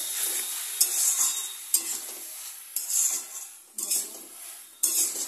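Bottle gourd curry stirred in a pan with cumin, chili and ginger paste, a spoon scraping the pot in a few repeated strokes over a soft sizzle, close and moderately loud with no talking.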